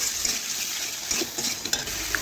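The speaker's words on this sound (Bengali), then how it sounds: "আমি আলুগুলো মশলা দিয়ে রান্না করে নিচ্ছি" Potatoes cook with spices in a pan while being stirred. Scraping and clinking come close by over a steady sizzle.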